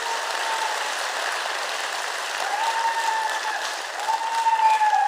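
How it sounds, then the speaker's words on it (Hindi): Steady applause from a crowd, continuous clapping that swells slightly toward the end, heard from a short distance. "जोरदार तालियां अपने लिए बजा दो"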